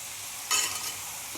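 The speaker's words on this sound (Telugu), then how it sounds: "ఇది బాగా ఆయిల్లో ఫ్రై అవ్వాలి" Pieces of mutton head fry in oil with a steady soft sizzle and a short burst of louder crackle as they are stirred, close and without talk.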